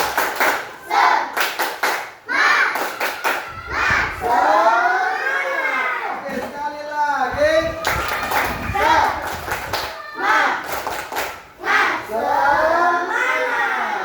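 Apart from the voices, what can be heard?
group doing 'tepuk semangat' rhythmic clapping ice-breaker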